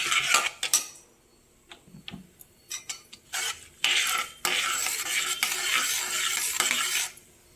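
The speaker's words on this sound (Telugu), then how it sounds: "ఇందులో తాలింపు దినుసులు వేసుకుందాం. ఆవాలు, మినప్పప్పు, శనగపప్పు." A metal spoon scrapes and clinks against a pan as mustard seeds, urad dal and chana dal temper, with short stirring strokes followed by a longer steady sizzle and scraping.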